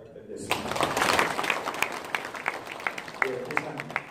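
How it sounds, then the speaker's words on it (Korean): Audience applause at a Gumi Chamber of Commerce breakfast meeting for a director, a burst of clapping that swells then thins into scattered claps with a voice speaking over it. "우리 국장님께 한 번 더 큰 박수 부탁드리겠습니다"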